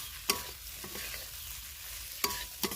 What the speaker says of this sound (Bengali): এটা এবার নাড়তে নাড়তে ভালো করে কষিয়ে নিয়ে নামিয়ে নেব